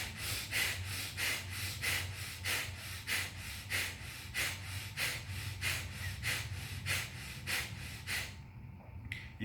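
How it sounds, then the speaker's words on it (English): Pranayama breathing practice: a person makes quick, forceful, evenly spaced breaths through the nose, about fifteen sharp pulses in a steady rhythm, close and clear, stopping just before the end. "Okay, normal inhale, exhale."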